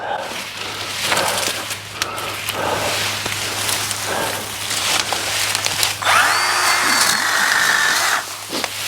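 A Milwaukee M18 battery trimmer cuts into a plant inside fountain grass, giving a close whirring buzz in short bursts with crackling, snapping stems between them.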